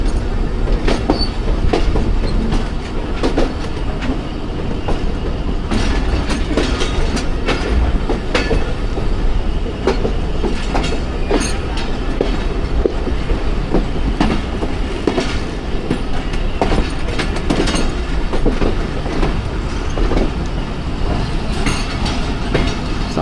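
A train rolls past at Lala Musa Junction on the Awam Express route, with loud, steady rumbling and rhythmic clickety-clack of wheels over rail joints, occasional squeals, sustained close throughout.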